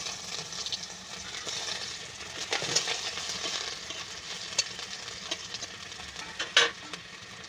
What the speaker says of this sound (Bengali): কড়াই আমি তেল দিয়ে দিয়েছি দেখতে পাচ্ছ তেলটা কিন্তু খুব সুন্দর কিন্তু গরম হয়ে গেছে এরপরে কি করছি আমি এখানে পেঁয়াজ কেটে দিয়ে দিচ্ছি